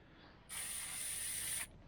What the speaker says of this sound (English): spray it for a bit so that the nozzle doesn't get clogged up